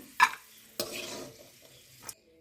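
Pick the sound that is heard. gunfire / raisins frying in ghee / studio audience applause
raisins frying in ghee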